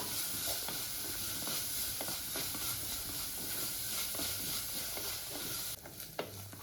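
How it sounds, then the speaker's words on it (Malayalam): Onion, garlic and ginger sizzle steadily in a hot pan while a spoon stirs them, with soft scraping clicks over a constant frying hiss that drops away near the end. "എന്നിട്ട് നന്നായിട്ടൊന്ന് ഇളക്കി കൊടുക്കാം."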